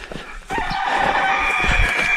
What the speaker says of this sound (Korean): 닭도 울고.